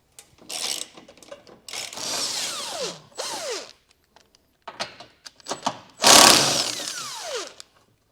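A ratchet wrench with a 15mm socket loosens nuts under a 2022 Tesla while a hitch receiver is fitted, clicking in several close bursts of rapid ratcheting separated by short pauses, with one louder burst near the end.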